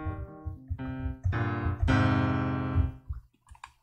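Piano notes from the ID8 instrument module in Reason software, a short sequence of tones rising in loudness, sustained chords ringing clearly, alone without talk.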